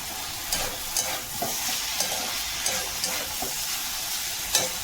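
Shapla, water lily stems, fry with salt and roasted spices in a pan over high flame, giving a steady close sizzle broken by several sharp stirring clicks and scrapes, with no voices.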